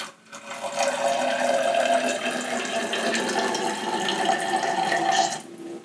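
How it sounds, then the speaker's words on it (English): Water pours steadily into a tank, a loud continuous rushing and splashing fill that starts abruptly and stops after about five seconds, with no talking. "is fill the tank up with water"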